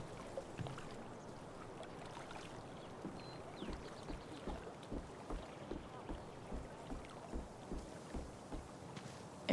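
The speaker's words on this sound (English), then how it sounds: "If not for the paddling, kayaking would be super relaxing." Kayak paddling in the Life is Strange: True Colors video game, with soft rhythmic paddle strokes splashing at a steady pace over a faint wash of wind and water.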